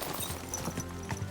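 Horse hooves clip-clopping in the medieval game Kingdom Come, a brisk, steady run of hoof strikes heard close and fairly loud, with no talking over them.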